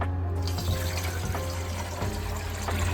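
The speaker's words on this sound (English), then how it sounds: "We just pour the cold water into the pan like this." Cold water pours into a metal pot lid used as a pan at an outdoor survival-style kitchen, a steady continuous splashing stream lasting a few seconds, close and fairly loud.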